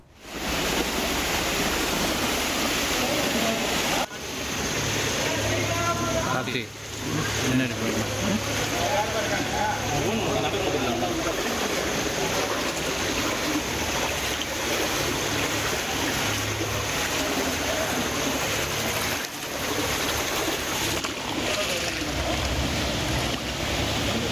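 Floodwater from a breached canal rushes through a village in Vellore during heavy rain, a loud, steady broadband roar of moving water that continues throughout with a few brief dips.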